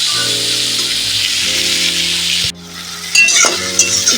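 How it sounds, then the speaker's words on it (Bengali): Onions and tomatoes fry in a salted pan with a loud, steady sizzle that drops briefly midway, followed by a few clinks and scrapes near the end. "লবণটা দিলে টমেটোটা বেশ নরম হয়ে যায় পেঁয়াজটাও ভাজা ভাজে যাবে"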